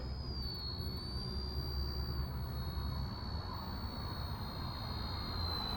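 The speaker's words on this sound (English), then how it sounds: "we can fire up the motors. Let's press the automatic takeoff button" A quadcopter drone's motors run steadily during automatic takeoff and hover on a windless morning, giving a constant close whine with a high pitched tone over a low rumble, with no talking.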